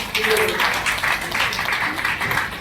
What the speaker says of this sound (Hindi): मैं जोरदार ताली बजाकर स्वागत करता हूँ